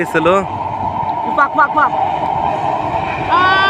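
A train passes along a railway at night, with a steady loud rumble throughout, a tonal horn-like sound rising near the end, and people talking over it.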